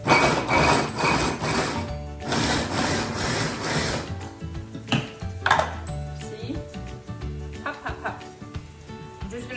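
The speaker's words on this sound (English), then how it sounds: "It's going to be a bit loud, but it's super fast, and you just want to pulse it" Baby carrots being pulsed into rice in a food processor, loud whirring bursts that start and stop in short pulses, with a voice talking over parts of it.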